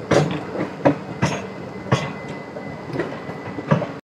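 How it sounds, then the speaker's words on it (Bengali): A Howrah to Tundla passenger train rolls past close by, wheels thumping over rail joints in a steady run of loud clacks with a faint squeal, no voices. "সামনে থেকে পার হচ্ছে হাওড়া টু টোন্ডলা বলে একটা কোনো ট্রেন"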